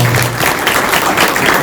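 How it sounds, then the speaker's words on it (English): Dense, continuous applause from an audience at a housing-issue coalition panel, a loud steady wash of many hands clapping together without break. "Please join me at giving them a hand of applause."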